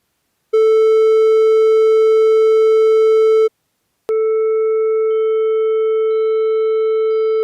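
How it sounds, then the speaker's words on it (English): A synthesized triangle wave tone holds a steady, loud, pure pitch for about three seconds, stops briefly, then sounds again at the same pitch until the end. "And this is what the triangle wave sounds like."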